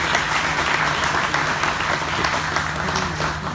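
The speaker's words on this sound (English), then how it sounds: "One more round of applause for our Secretary of Agriculture." A rally crowd at a farm show applauds the Secretary of Agriculture, with steady dense clapping that holds loud and unbroken throughout.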